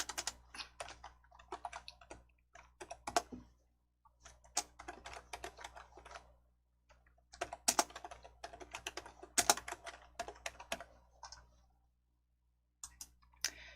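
Typing on a computer keyboard while setting document formatting, quick clusters of close key clicks in bursts separated by short pauses, with no talking.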